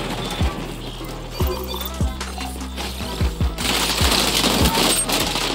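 Weapon reload in the XDefiant shooter game, an MP7 submachine gun, with several sharp mechanical clicks and clacks over a dense, steady game soundscape.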